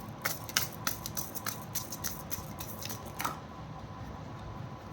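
Angel oracle cards are shuffled by hand in quick, papery riffles and flicks, several close bursts over a few seconds, quiet with no talk.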